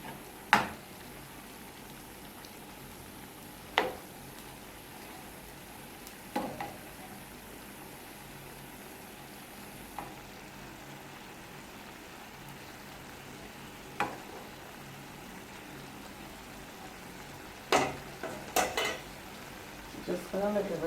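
Pepper steak made with beef top sirloin simmers in a pot at an outdoor yard cookout in Jamaica, a faint steady bubbling broken by several sharp clinks of a spoon or utensil against the pot.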